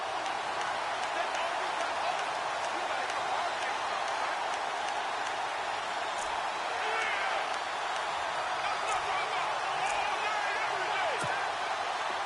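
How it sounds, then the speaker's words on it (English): A stadium crowd roars steadily at an NFL football game between the Rams and the Saints, cheering the home defense holding on the opening drive with a dense, continuous wash of noise. "this crowd loves it as their guys hold on the opening drive"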